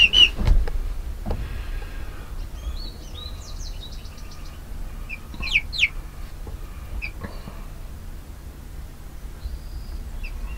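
Brahma and Jersey Giant chickens cluck softly in a coop, with scattered short calls and a few louder squawks over quiet background noise, and no one talking.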